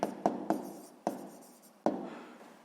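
Hand writing during a sixth-grade math exercise, heard as a handful of sharp taps and short scratches at an uneven pace, close and quiet with no talk.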